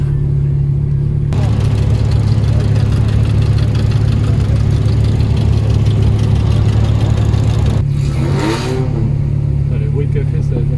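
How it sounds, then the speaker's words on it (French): A Ferrari V8 idles close by beside a Lamborghini Murcielago, its steady low engine hum continuous throughout, with a brief rise in revs near the end. "Le V8 Ferrari avec une Murcielago."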